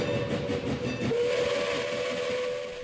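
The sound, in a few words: military train with steam whistle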